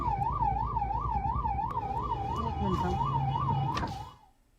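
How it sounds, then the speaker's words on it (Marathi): An ambulance siren wails in a rapid, steady up-and-down pattern through a busy Dadar market street, loud and close with traffic murmur beneath, then cuts off and fades near the end. "कुठलीही एमर्जन्सी नसताना दादर मार्केटमध्ये सायरन लावून त्यांनी रुग्णवाहिका फिरवली"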